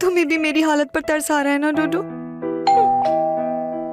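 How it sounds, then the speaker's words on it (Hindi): Someone speaks briefly, then a doorbell chimes with sustained ringing tones, a second two-note ding sounding near the end. "ये तो डोरबेल की आवाज है"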